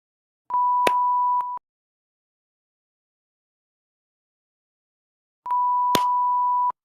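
Two steady electronic beeps about a second long each, the first near the start and the second several seconds later, with silence in between.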